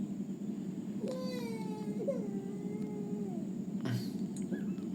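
In the video game The Baby in Yellow, a cat gives a long, drawn-out meow that rises and falls for a couple of seconds, heard clearly over a steady low game ambience hum.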